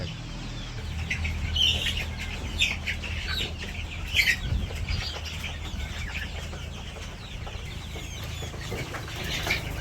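Several young chickens cluck and squawk nearby in short repeated bursts, with occasional wing flaps over a low outdoor background.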